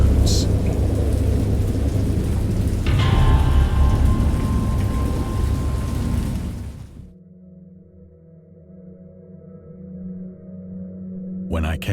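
A great storm in the Dagon video game, heavy rain pouring with low rolling thunder for about seven seconds, then cutting to a quiet hum with a faint rumble before a short return of noise.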